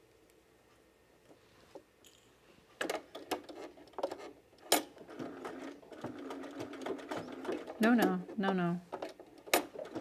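A home sewing machine restitches part of a Thread Theory Strathcona Henley shirt in short, uneven bursts of rapid mechanical stitching, with clicks and handling noises between runs and a voice speaking briefly.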